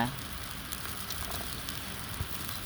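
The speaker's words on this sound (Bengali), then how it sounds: "এখন আমি পানি দিয়ে নিচ্ছি, মশলা দিয়ে নিব।" A steady hiss of a hot frying pan as water and garlic, ginger and cumin pastes go in for a raw-mango pangas fish curry, with a faint bump partway through.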